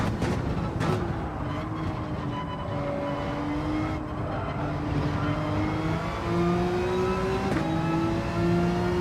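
A Porsche race car engine in Gran Turismo 7 drones steadily, its pitch climbing gradually through sustained acceleration with brief gear-change dips, loud and continuous with no talk.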